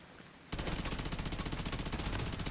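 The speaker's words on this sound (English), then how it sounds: "that's a turret" Automated turret in The Division 2 firing a sustained rapid burst, loud and close, with evenly spaced shots running steadily after a quiet opening.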